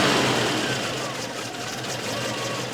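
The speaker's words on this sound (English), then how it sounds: "Now we got way too low idle after the change, so let's just raise that up a little bit" A Volvo 244 engine idles low and steady just after a tune-up adjustment, a continuous near hum with a faint fluctuation in its note and no speech over it.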